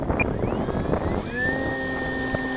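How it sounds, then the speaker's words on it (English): An E-flite Carbon-Z Cub 2.1 m RC plane's electric motor spools up for a half-throttle takeoff, a steady rising whine settling into a sustained tone, heard close and outdoors. "About a half throttle takeoff."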